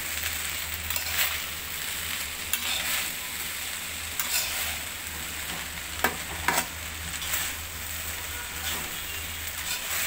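Chicken being stir-fried in a pan with soy sauce, a steady close sizzle with intermittent scraping and stirring clatters throughout, no voices.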